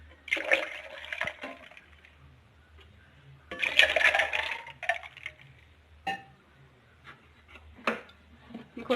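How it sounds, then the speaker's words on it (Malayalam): Water is poured into a blender jar holding passion fruit juice and ice. It comes as splashing gushes in two main bursts with small clinks and knocks between, close by. "കുറച്ച് വെള്ളം കൂടി ഒഴിച്ചു കൊടുക്കാം."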